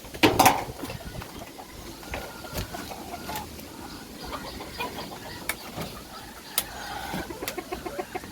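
Native roosters and chickens cluck softly and intermittently nearby over a low rustling background on a windy day, with a brief louder squawk at the start.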